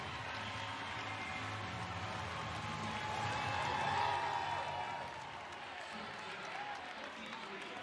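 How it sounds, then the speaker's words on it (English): Crowd at a Penn State versus Nebraska women's volleyball match in Rec Hall, broad sustained cheering and clapping that swells midway and then eases to a steady roar, with talk over it. "the crowd goes wild"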